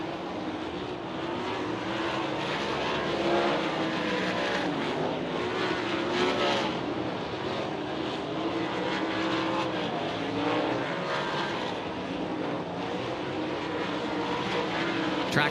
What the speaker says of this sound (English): Green flag is out for the first Dirt Draft Hot Lap session of the night.